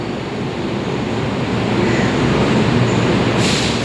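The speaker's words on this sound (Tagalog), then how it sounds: "Itong train na to is straight going to Ampang." Inside a moving train bound for Ampang from Sentul Timur station, a loud continuous rumble and rushing roar of the carriage fills the space, steady throughout with faint higher hiss near the end.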